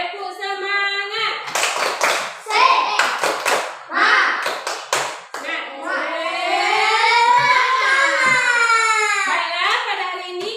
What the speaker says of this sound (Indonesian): Tepuk semangat sama-sama dulu.